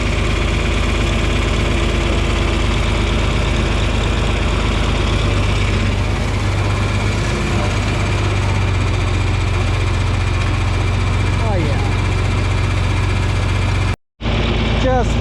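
Motor grader blading dirt along a road, its diesel engine droning steadily and loud up close at a low, even pitch before cutting out sharply near the end.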